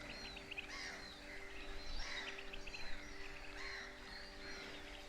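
Wild birds call and chirp at a coastal marsh nature reserve in Norfolk, with fast-moving birds about; several high chirps and calls repeat across a steady, busy background of outdoor ambience.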